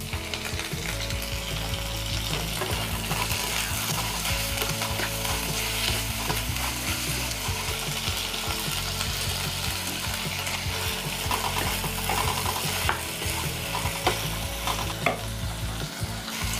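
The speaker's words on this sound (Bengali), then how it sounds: "এই সময় দেব ফ্রোজেন কড়াইশুঁটিগুলো" Frozen green peas fry and get stirred in a pan while making veg kaju rice, a steady loud sizzle broken by repeated scraping and clinking of the spoon against the pan, with no voices.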